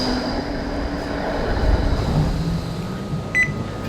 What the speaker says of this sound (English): This is a Melbourne tram